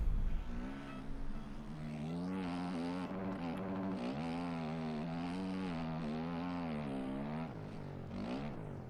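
A KTM dirt bike engine in the MX Bikes video game, revving up and down continuously with a buzzing, rising and falling pitch. The engine stays close and fairly loud throughout, with no talking.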